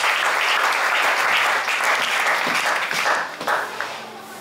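A church congregation bursts into sustained, dense applause, loud and close throughout, with many hands clapping together before it begins to thin toward the end.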